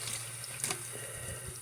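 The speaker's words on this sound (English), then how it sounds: "I'm just taking some hot water, just rinsing out the clothes" Hot water runs steadily from a tap into a sink while doll clothes are rinsed, a continuous close splashing rush with no speech.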